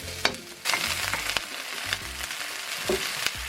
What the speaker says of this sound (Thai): โดยจะใช้วิธีการผัดผัก ให้สุกนะคะโดยใช้ผักที่มีความหนาก่อน